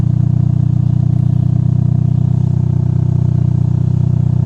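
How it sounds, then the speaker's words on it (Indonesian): A steady, low exhaust burble from a modified 2015 Toyota Vios sedan idles continuously with a fast, even pulsing rhythm, close and fairly loud, with no voices. "Terus untuk suara knalpot seperti ini ya, suara knalpotnya."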